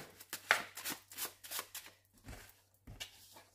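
Tarot cards are shuffled for a reading, giving a series of soft, close riffling and sliding bursts in a rough rhythm, followed by a couple of duller taps as the deck settles, with no voices.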